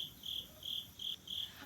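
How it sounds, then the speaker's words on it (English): Crickets chirp in the background where chicks are being raised, giving four evenly spaced, faint, high-pitched trilling bursts in a steady rhythm against quiet ambient hiss. "you can hear the crickets in the background"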